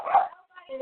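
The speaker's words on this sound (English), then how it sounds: "Somebody got a dog. I've heard a dog." A dog barks over a phone line during a call, a single short bark-like burst followed by a fainter yip, thin and slightly muffled as though heard through a handset.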